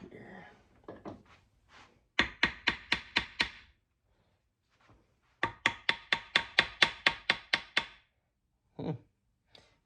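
Two quick runs of sharp, evenly spaced taps strike a part on a roughly 70-year-old outboard motor to loosen it, about six to eight hits per run. The taps are close and crisp, with a brief voice before and after.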